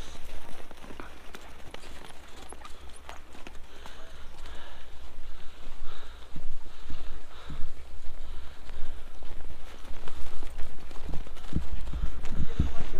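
Horses' hooves tread through snow at Sonamarg in Kashmir, an irregular crunching clip-clop under steady wind-like noise, fairly close and continuous, with voices mixed in.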